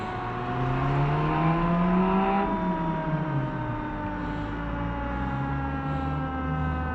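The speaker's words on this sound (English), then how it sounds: "Got an ambulance coming." An ambulance siren wails over steady traffic and engine noise on a street in Maine, its pitch sliding as the ambulance passes by at moderate distance.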